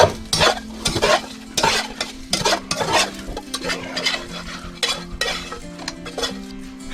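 Potatoes and onions frying in oil in a pan are stirred, with repeated clinks and scrapes of a utensil over a soft sizzle, close and fairly loud.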